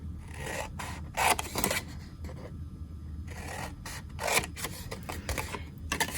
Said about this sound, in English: you're going to cut up to the score line. Do this on both sides.